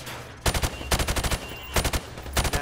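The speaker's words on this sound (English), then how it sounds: "Now, shoot at the targets while firing from the hip." Rifle fired from the hip in Call of Duty 4 Remastered, loud close bursts of rapid shots in four short volleys separated by brief pauses.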